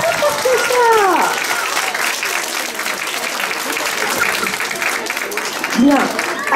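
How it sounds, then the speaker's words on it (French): Children and adults in a church audience after a Christmas show applauding loudly, a dense, continuous wash of clapping with children's voices calling out over it. "Alors il faut applaudir très fort."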